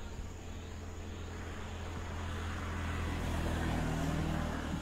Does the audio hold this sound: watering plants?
no